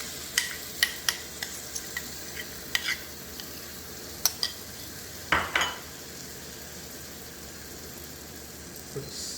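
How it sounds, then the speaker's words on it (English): Tomato and yogurt sauce goes into a pan of cumin chicken, with a few sharp utensil taps against the pan and then a loud wet splash, followed by a steady soft sizzle. "Let's add these tomato and yogurt sauce."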